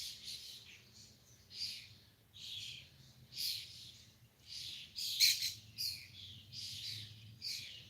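Several birds chirp in short repeated bursts, each call bright and moderately close, over a steady low hum with no talking.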